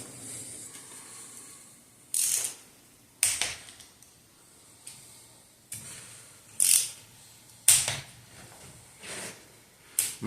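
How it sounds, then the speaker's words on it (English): Torque wrench tightening bolts on a 5.7 Hemi engine in an alternating pattern, giving a series of sharp metallic clicks and ratchet bursts spaced a second or two apart, close and distinct over a quiet background. "So I'm going to torque these first. These are 15 foot-pounds or 180 inch-pounds, right?"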